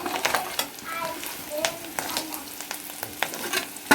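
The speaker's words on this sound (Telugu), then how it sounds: "కరివేపాకు కొంచెం నిదానం ఫ్రై అవుతుందండి, అందువల్ల టైం పడుతుంది" Curry leaves fry slowly in a pan, a soft, low sizzle broken by sharp crackles and occasional stirring taps, fairly quiet and close, with no voice.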